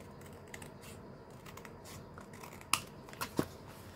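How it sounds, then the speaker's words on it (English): Scissors cutting through packaging cardboard, a few soft snips and sharp crisp cuts near the end, close and fairly quiet. "I'm going to cut this portion off."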